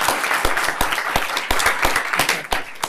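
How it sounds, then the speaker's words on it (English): A crowd applauds steadily at a school district board meeting, with sharp, rapid claps throughout at close range. "let's give them a round of applause"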